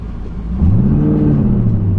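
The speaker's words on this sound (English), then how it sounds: "I'll get a chance here on this green light to kind of drop the clutch on it a little bit" A rear-wheel-drive car pulls away hard as the clutch drops at a green light, the close, loud engine rumble rising in pitch and holding steady with no talking.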